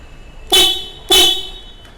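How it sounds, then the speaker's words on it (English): Two loud, sharp blasts from a Hella compact disc horn fitted to a KTM Duke 390 Gen 3 motorcycle, heard up close, each short toot clean and bright with a brief gap between them. "the bike now has a better horn"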